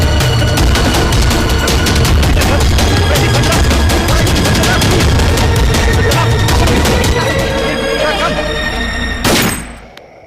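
Gunfire in a Hindi-dubbed South Indian action film: a loud, dense, sustained burst of rapid shots that runs continuously for about nine seconds and ends with a sharp final crack, with no clear talking over it.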